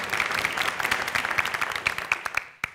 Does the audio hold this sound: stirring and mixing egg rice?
no